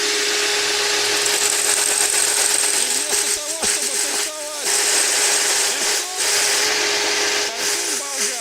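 A grinder runs steadily on a clamped metal blank while a round tube table base is being made, giving a continuous harsh, loud whine with brief dips and scraping bursts.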